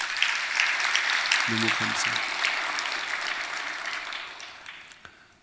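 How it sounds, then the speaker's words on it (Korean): Congregation in a church service applauds the Gabriel choir: dense, sustained clapping from a crowd with a brief spoken thank-you near the start, tapering off toward the end. "박수 한번 쳐줘요."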